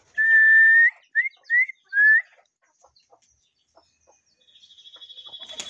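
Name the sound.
chickens pecking and clucking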